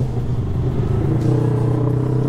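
Yamaha motorcycle ridden through dense road traffic, a close steady engine rumble with surrounding vehicle noise, continuous with a slight rise in the second half.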